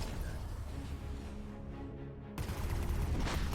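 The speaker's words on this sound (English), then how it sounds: "This incendiary bomb" Incendiary bomb blast in the Mechabellum strategy game, heard amid a dense, continuous battle din of rumbling impacts and crackling fire, with the roar swelling abruptly louder partway through and staying loud to the end.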